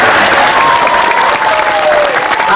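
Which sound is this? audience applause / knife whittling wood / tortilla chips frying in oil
audience applause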